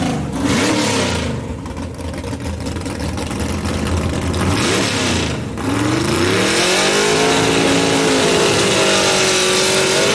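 A 1961 Chevrolet Bel Air gasser drag car at Knoxville Dragway revs hard and accelerates down the strip, loud and continuous with a rising engine note after a brief dip mid-run.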